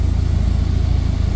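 Steady low engine drone from a Mitsubishi Evo held at around 2500 rpm, a constant close rumble with no other sounds.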